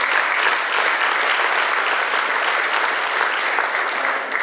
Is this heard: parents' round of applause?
yes